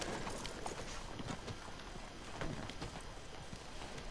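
Steady clip-clop of horse hooves at a trot in a video game, even and continuous over a constant wash of outdoor background noise, with no talking.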